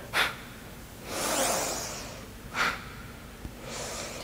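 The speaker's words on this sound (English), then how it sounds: "Our breath here is short, sharp exhalations out through the mouth." Short, sharp breaths forced out through the mouth during a martial-arts-infused yoga session, four distinct bursts, some quick and punchy, others longer and rushing, close and clear with no talking.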